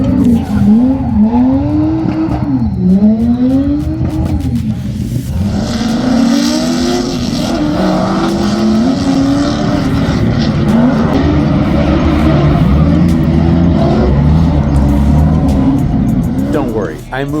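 A Subaru Outback drifting at a Slideways Showdown event, heard from behind a chain-link fence: a loud, sustained engine wail with rising and falling revs and broad tire roar throughout, ending abruptly.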